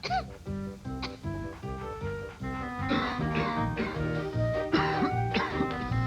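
A few short coughs and throat-clearing sounds from a cold over steady background music in a TV commercial.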